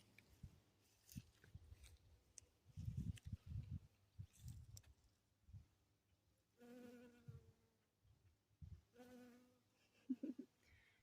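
Soft honeybee buzzing over a patch of white clover drifts in and out close by, with low thumps and a few faint voices in the background.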